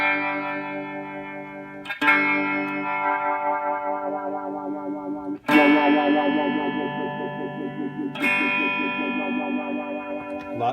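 Electric guitar through a modified effects pedal with its bias and feedback controls turned up, giving three heavily distorted, sustained strummed chords with a warbling, modulated ring that decays between strikes.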